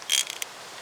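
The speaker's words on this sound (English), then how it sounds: "I think I've got just enough room to get the socket on there, the ratchet on there." A socket ratchet clicks through a short burst of turns on a part of a Holden Commodore VE Omega Sportswagon engine, close and fairly quiet, lasting under a second.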